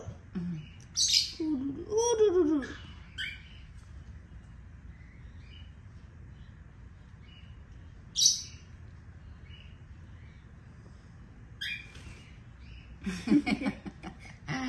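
A pet lovebird at home gives sharp, high chirps and squeaky calls in short clusters near the start, once mid-way, and again in a busier burst at the end, separated by quiet room tone.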